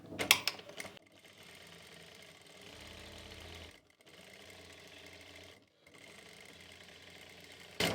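A sewing machine runs in steady stretches while stitching a seam on open palazzo trousers, with a brief pause and a short clatter at the start and end.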